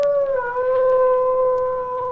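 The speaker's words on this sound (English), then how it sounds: "It sounded like a wolf." A wolf howl from a Halloween ghost story sound effects record, a loud, sustained, wavering tone that slides slightly downward. The howl is heard alone and close.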